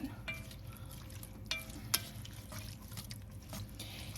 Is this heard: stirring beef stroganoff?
yes